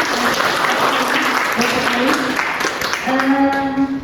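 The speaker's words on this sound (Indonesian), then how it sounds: "Tepuk tangan dulu untuk Larissa." An audience applauds a student during a dental lecture in a classroom, continuous clapping from a group with a speaking voice rising over it near the end.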